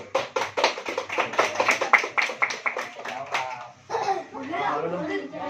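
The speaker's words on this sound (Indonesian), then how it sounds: "Oke, boleh tepuk tangan" Students clap together in a classroom during a talk on preventing online game addiction, giving a quick run of sharp, close claps in a steady rhythm, followed by voices and chatter.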